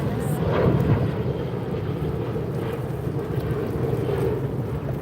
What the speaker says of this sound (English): And another Qantas takeoff.